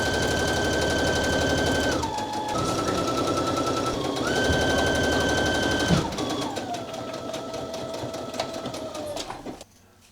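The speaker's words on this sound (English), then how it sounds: "Now we'll stitch along the sides and the bottom at 5/8 of an inch seam allowance" A sewing machine runs steadily, stitching a 5/8-inch seam along the sides and bottom of a garment, its rapid mechanical chatter shifting in pitch as the speed changes before it slows and stops.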